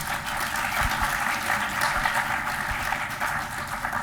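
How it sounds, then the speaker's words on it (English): Audience applause at a panel discussion, a dense, even wash of clapping that holds steady for several seconds at moderate volume. "we should give them a very, thunderous round of applause"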